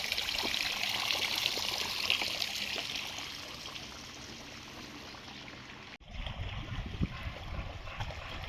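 Spring water wells up from the ground and trickles over a pebbly spot near a beach, a steady close babble of running water that fades slightly, cuts briefly, then resumes with small splashes.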